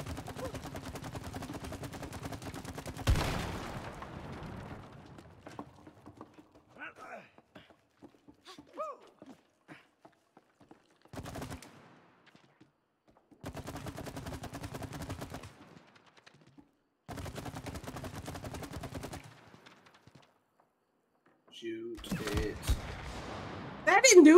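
Gunfire in the co-op video game It Takes Two comes in several separate bursts of sharp, crackling shots with quiet gaps between them, mixed with mechanical game effects.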